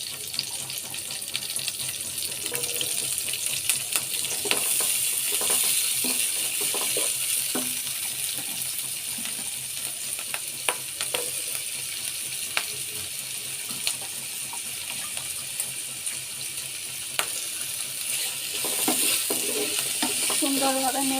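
Onion flowers and potatoes frying in hot oil with browned garlic, a steady hissing sizzle with occasional scraping and stirring clicks, fairly even in level and with no talking.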